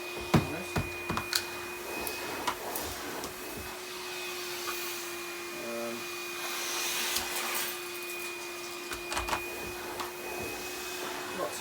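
A Numatic Henry cordless HVB160-2 vacuum cleaner runs on its high setting with a steady, thin whine and sustained tone, fairly quiet, with a few bumps and knocks as it moves around.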